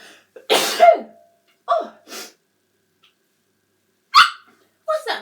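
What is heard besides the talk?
person sneezing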